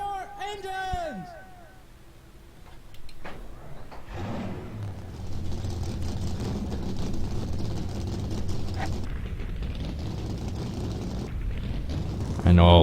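Stock cars in NASCAR Racing 2003 fire up after a brief voice, a low engine rumble building and then holding as a loud, steady drone from the whole field, swelling sharply at the very end.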